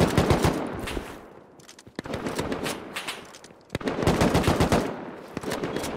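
Gunfire in the survival game Rust: three loud, rapid automatic bursts of shots in quick succession, each lasting a second or more, separated by short pauses with single sharp cracks in between.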